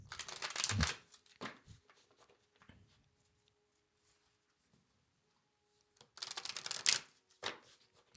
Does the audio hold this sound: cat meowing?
no